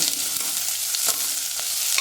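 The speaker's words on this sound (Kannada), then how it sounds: "ಈ ಥರ ಒಂದು ಒಗ್ಗರಣೆ ಹಾಕ್ಕೊಂಡು" Oggarane spices fry in a pan for idkidbele saaru, giving a loud, close, continuous sizzling hiss with a faint scrape of stirring, with no voices over it.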